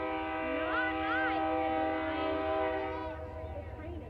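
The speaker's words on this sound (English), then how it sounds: "The train is loud." A train horn sounds a sustained chord over a low rumble, with wavering voice-like tones mixed in, fading slightly toward the end.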